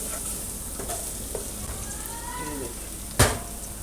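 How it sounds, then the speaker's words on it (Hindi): Onions added to browned garlic sizzle and fry in a hot pan with a steady crackle, a spoon stirring through them and one sharp clank of metal near the end. "अब प्याज डाल दिए, इसको हल्का सा फ्राई करूँगी।"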